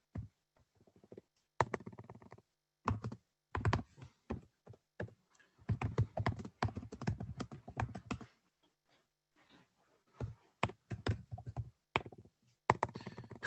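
Clattering keystrokes on a laptop keyboard come in irregular bursts of quick typing separated by pauses, close and fairly quiet, with no talking.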